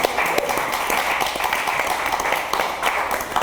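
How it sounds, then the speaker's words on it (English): A room claps for a student recognized for an upcoming trip to a medical leaders congress at Harvard. The dense, even round of applause carries throughout with no clear talk over it. "let's give him a nice round of applause"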